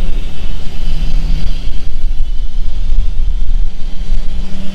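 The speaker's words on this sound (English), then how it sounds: "there's a car coming" A car on a road at Cedar Bluffs State Park, Kansas, passes close by with a loud, steady engine and tyre roar that holds through the whole stretch, with no talking.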